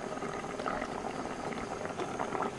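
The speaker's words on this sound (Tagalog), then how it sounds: "kumukulo na yung ating ginataan" Thick coconut milk stew with danggit fish bubbling at a rolling boil, soft continuous popping and gurgling, close and fairly quiet.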